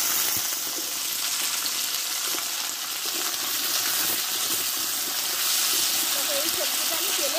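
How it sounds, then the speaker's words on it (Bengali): Cut radish, flat beans and potato sizzle steadily in hot oil with panch phoron spices, a continuous close crackle and hiss that holds level throughout. "দেখো, এই সবজিটা আমি তেলে কষে নেব।"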